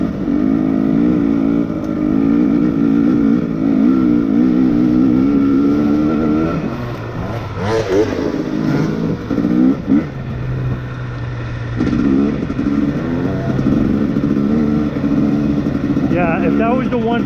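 A 2020 KTM XC250tpi two-stroke dirt bike climbs a steep hill, its engine lugging and buzzing loudly with changing pitch and bursts of revving, recorded close on the bike amid wind noise.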